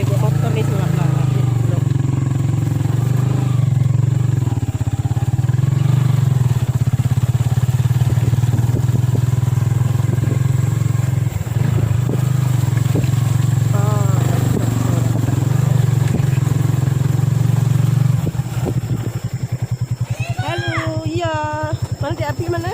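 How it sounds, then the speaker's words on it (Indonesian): A motorcycle ridden along a slippery rural road lined with trees, its engine droning loudly and steadily up close for the whole stretch, with people talking over it. "Coba ada bawa motor nih sebelah belakang."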